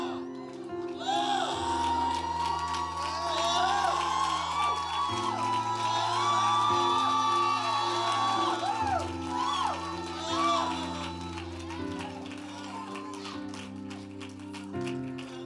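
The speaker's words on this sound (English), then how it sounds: "scream then. Scream." A church congregation at New Beginnings Community Church screams, whoops and cheers loudly and continuously over steady, booming bass music, with voices rising and falling throughout.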